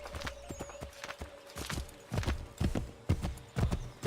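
Horse hooves clip-clop in the video game Assassin's Creed 3, a quick uneven run of sharp, close knocks building louder toward the end.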